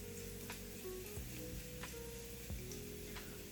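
Garlic and chili flakes fry in a pan for shirataki noodles, giving a soft, steady sizzle with faint ticks and a few light clinks of a utensil, fairly quiet and close.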